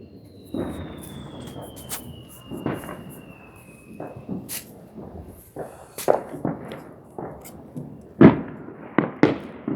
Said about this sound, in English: I think 2 more fireworks